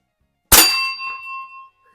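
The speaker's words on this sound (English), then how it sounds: "Let's hit the bell." A pellet from a 1949 Crosman 120 air rifle strikes a metal bell target, giving one sharp loud clang followed by a clear ringing tone that decays over about a second.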